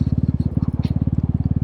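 A Royal Enfield Meteor 350 in Stellar Red, fitted with an aftermarket pipe, thumps along a street in a steady, rapid single-cylinder pulse, loud and close throughout.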